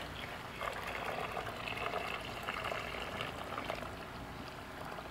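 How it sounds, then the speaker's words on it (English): Liquid is poured off settled metal sludge left from processing flash RAM chips for gold and silver. A steady, fairly quiet stream splashes and trickles into a container for several seconds. "pour off the liquid"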